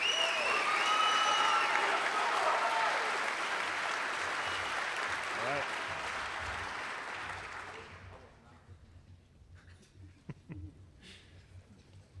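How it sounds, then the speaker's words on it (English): Sustained applause from a large crowd fills the room, then fades to scattered claps and quiet shuffling near the end. "Let's give these athletes one more round of applause."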